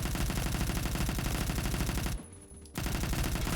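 Rapid automatic gunfire from a 100-round weapon in the Roblox shooter Phantom Forces, a dense continuous burst that drops out briefly for about half a second before resuming at full loudness.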